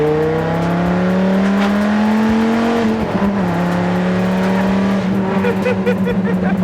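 Dodge Viper GTS ACR engine droning loudly and close as it is driven, with a steady low exhaust tone that rises and shifts between gears, under continuous cabin noise.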